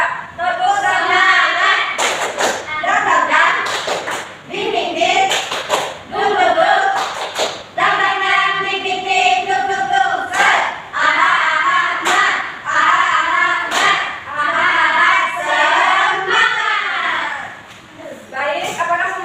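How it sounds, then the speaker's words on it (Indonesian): Classroom of students performing a rhythmic spirit clap, sharp unison claps in repeated patterns mixed with chanted young voices, loud and close. "1, 2, 3, tepuk semangat."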